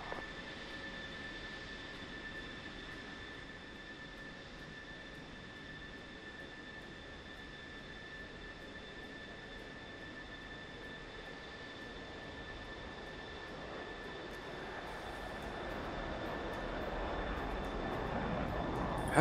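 In the combat flight simulation DCS World, a jet aircraft rumbles as it takes off. The engine roar holds steady and builds slowly over the clip, with a high, constant tonal whine on top. No voices are heard.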